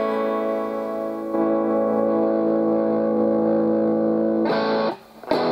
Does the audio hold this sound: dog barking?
no